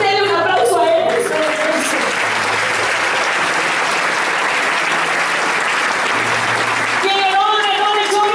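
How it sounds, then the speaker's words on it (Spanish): A congregation at the closing of a church congress applauds loudly and steadily, a dense wash of clapping lasting several seconds, with music and voices under it at the start and end. "Denle un aplauso a él"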